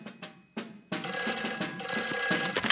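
Cartoon telephone bell ringing in a Peppa Pig episode, a few short rings building into a sustained bright, loud trill with no talk over it.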